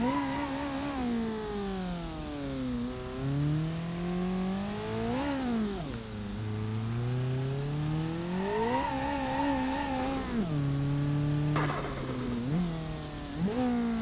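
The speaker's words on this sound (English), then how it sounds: "this turbo really doesn't like the spool" A turbocharged car engine in BeamNG.Drive revs repeatedly, its pitch sweeping up and down through several throttle blips, with a hiss of turbo spool and a brief sharp burst near the end, loud and close.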